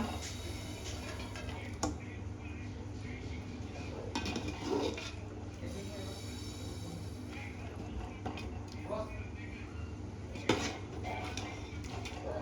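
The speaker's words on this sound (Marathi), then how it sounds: "आता या पातेल्यामध्ये आपण चिकनची लेयर लावून घेऊया." Chicken pieces and gravy being laid into a large pot set over an iron griddle for dum biryani, with soft metallic clinks and scrapes of a spoon against the vessel over a steady low kitchen hum.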